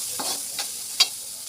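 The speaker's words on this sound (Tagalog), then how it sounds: "Igisa na tayong bawang sibuyas luya." Garlic, onion and ginger sautéing in a pan for ginataang kalabasa, a sharp close sizzle with a few stirring scrapes and a brief clatter near the end.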